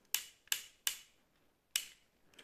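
Ratcheting click joints on an oversized knock-off Transformers combiner figure snap sharply as an elbow is bent, giving four quick, close, quiet clicks with short gaps between them.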